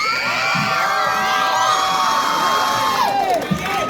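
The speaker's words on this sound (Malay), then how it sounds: "tepukan gemuruh untuk drama kita malam ni" Showcase audience at the Pistol & Bunga concert cheers, shouts and whoops loudly in a continuous roar for the night's drama performance, with high excited voices rising above the crowd.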